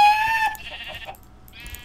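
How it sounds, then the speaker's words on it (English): Sheep in a blocky survival video game bleat in a quick series of close, wavering calls, a couple of bursts then a brief pause before another. "Hey, some sheep!"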